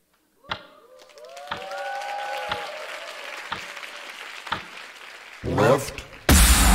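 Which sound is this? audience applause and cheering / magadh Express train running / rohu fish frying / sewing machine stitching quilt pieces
audience applause and cheering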